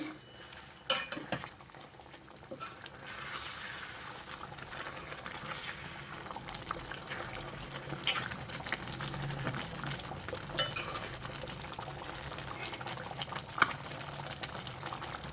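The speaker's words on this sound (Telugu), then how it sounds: "కలిపేసి మళ్ళీ ఒక రెండు మూడు నిమిషాలు ఉడకనిద్దాం" Palak paneer gravy simmers and sputters in a pan, a steady low bubbling hiss with occasional sharper pops and stirring scrapes throughout.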